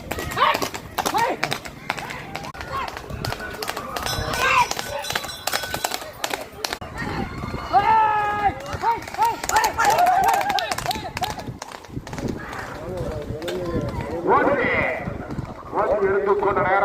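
Horses gallop in a village horse race in Vijayamangalam, their hoofbeats thudding under loud, near voices and shouting that run almost throughout.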